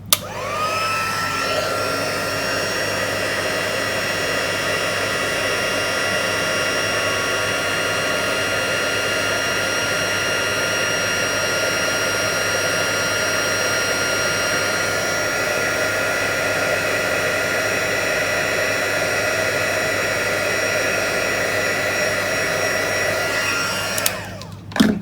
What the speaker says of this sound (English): heat that with the heat tool.